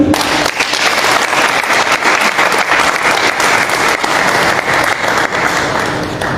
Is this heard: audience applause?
yes